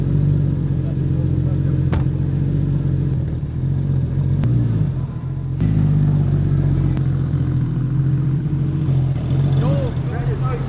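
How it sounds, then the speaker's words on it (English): Porsche GT3 RS engine idling after a cold start, a steady loud low rumble that holds throughout with a brief dip midway, heard close up with no talk over it. "A little cold start."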